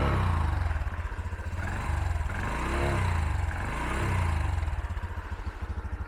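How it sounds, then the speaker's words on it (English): A 2023 Honda Trail 125 motorcycle engine idles with a steady close-up putter, then revs up and settles back in a couple of smooth swells, with no talk. "I'll give it a little bit of revs."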